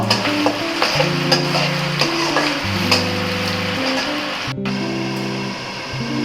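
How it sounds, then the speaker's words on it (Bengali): Chopped onion and garlic frying in hot oil, a close, loud sizzle with repeated heavy stirring scrapes in a steady rhythm, a brief gap, then stirring resumes under a softer hiss; no talking. "পেঁয়াজ আর রসুন কুচি তেলের মধ্যে দিয়ে দিয়েছি"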